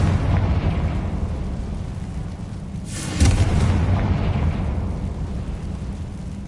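A Confringo fire spell in Hogwarts Legacy on PS5 bursts with one loud, deep explosion about midway, over a rumbling game background that keeps booming and fading afterward.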